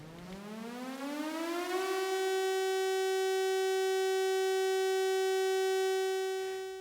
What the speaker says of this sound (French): les sirènes ont été déclenchées sur les secteurs menacés.